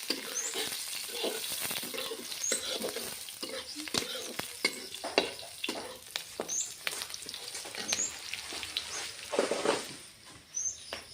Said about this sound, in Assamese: এইফালে মই এতিয়া শাকটো ভাজি ল'ম